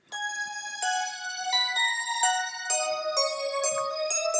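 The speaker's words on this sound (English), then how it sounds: "I added a kind of high bell to cooperate with the vocal" A high, bell-like synth tone from a remix rings out alone before the drop, a slow sequence of bright, sustained chime notes with long shimmering tails.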